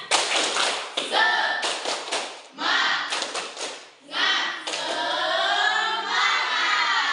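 A school class performs a rhythmic clapping chant, bursts of claps in a patterned beat with children's voices chanting along, loud and close, filling the room.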